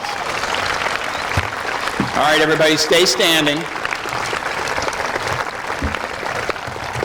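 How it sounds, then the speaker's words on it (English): Audience applause at a construction project's grand opening ceremony, steady clapping running through the whole stretch while a speaker's amplified voice talks over it. "the new construction is on budget and on time, and that deserves a round of applause"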